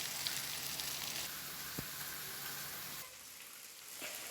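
Tilapia fries in coconut oil in a pan, a faint, even hiss of sizzling oil that drops quieter partway through, with a soft knock from turning the fish and no one talking.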